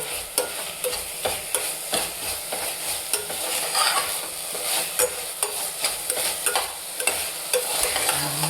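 Ground masala for wedding-style tomato bath frying in a pan, with a loud steady sizzle broken by repeated sharp scraping and stirring strokes from a spoon against the pan.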